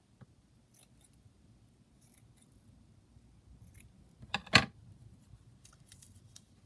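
Scissors trimming paper for a junk journal: one brief, close snip cluster near the end, surrounded by quiet room noise and faint handling sounds.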